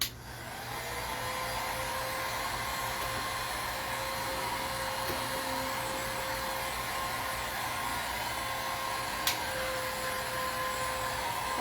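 An electric heat gun blows steadily on its high heat setting at a farmhouse kitchen craft table, a continuous close airy roar with an even tone throughout and a single faint tap near the end.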